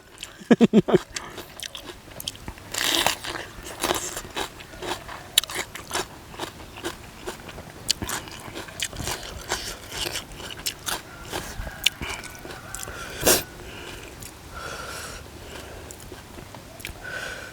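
Biting into a crunchy fresh chili pepper, close up: repeated crisp bites and crackling chewing spread over a long stretch, with faint sniffs between.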